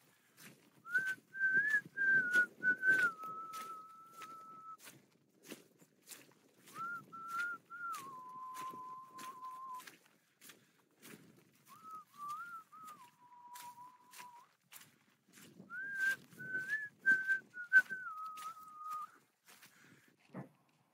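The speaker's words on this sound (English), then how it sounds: "let me whistle you a song just to mirror the conditions we've got today" A man whistles a tune outdoors while hiking in upland Wales, a faint, clear melodic whistle in short phrases with pauses, soft footsteps and light background noise beneath.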